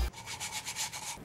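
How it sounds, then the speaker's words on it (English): Sandpaper rubbed back and forth over wood for a white shiplap wall: close, even strokes in a quick regular rhythm with a raspy, papery texture and no talking. "Sandpaper, wood, time to start sanding."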